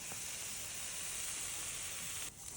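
Onion and ginger sautéing in hot oil for chicken sotanghon, a steady close sizzle and hiss that runs unbroken and drops away sharply near the end.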